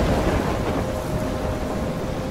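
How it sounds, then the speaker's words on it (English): Thunderstorm with heavy rain in the video game Life Is Strange, a dense steady roar of downpour with low rumbling throughout, loud and continuous with no speech. "I'm trapped in a storm?"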